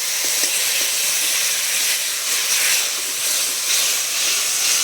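Water hits a frying spice masala for a dal dish, giving a loud, steady, close hissing sizzle that holds evenly for several seconds with no voices.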